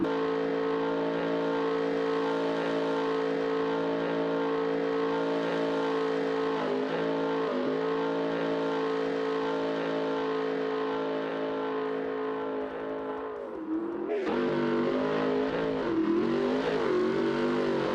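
Cammed LS3 V8 in a '68 Camaro street build in BeamNG Drive holds a loud, steady high-rpm drone, dips briefly, then surges back up with a hard rev near the end.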